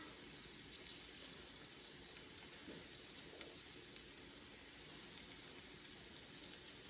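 Sourdough tortilla batter poured onto hot skillets over medium-low heat, giving a soft, continuous hissing sizzle with faint scattered crackles, fairly quiet and steady.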